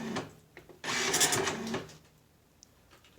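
An Okidata 320 Turbo 9-pin dot matrix printer during setup gives a loud, dense mechanical burst of about a second. Fainter clicks and whirs come before and after it, with no talk.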